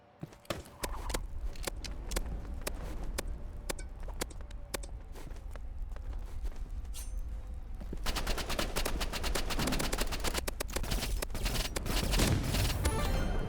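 Rapid bursts of gunfire in a game, sparse shots at first, then a dense, loud stretch of sustained automatic fire.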